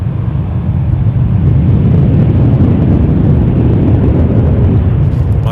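Air Transat Boeing 737-800 jet airliner at Toronto Pearson Airport, a steady loud low roar of jet engines that swells in the first second and then holds constant, broadband and rumbling throughout.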